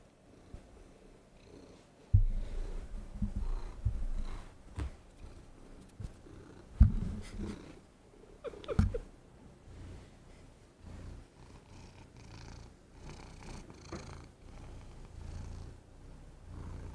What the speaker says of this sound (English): I have a cat on my lap now.